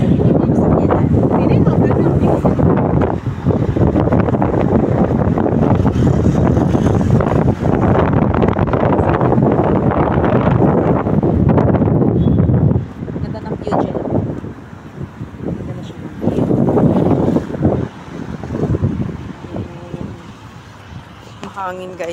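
Strong wind buffeting the microphone with a heavy roar, easing somewhat partway through before gusting again, with faint voices underneath.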